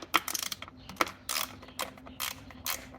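A ratchet loosens an 8mm bolt on the Skyactiv turbo engine of a Mazda CX-9, making quick bursts of close, dry clicking separated by short pauses, with no talking.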